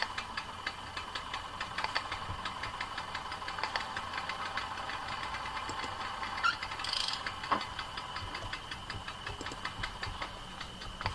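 A car engine idling in the game Jalopy, a steady, mid-loudness ticking, knocking drone with faint clicks scattered through, running unchanged throughout.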